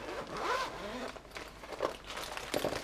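A cheap first aid kit unzipped and opened up close: a loud, long zipper pull with rising whine, followed by a couple of shorter zip tugs and light rustling of the case.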